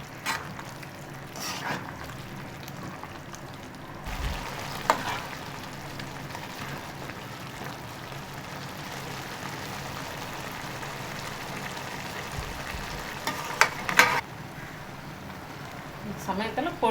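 Semiya (vermicelli) kichadi cooks in a pan with a soft, steady sizzle and occasional stirring scrapes, while a person talks over it.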